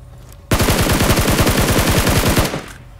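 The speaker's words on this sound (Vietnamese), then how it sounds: "Bên kia vẫn còn bắn nhau." Rapid automatic gunfire rattles loudly in a video game, a dense burst of fast evenly spaced shots lasting about two seconds before cutting off abruptly.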